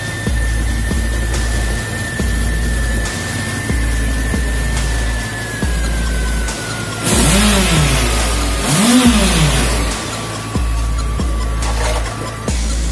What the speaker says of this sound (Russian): завел вот такой прекрасный мотоциклик моего друга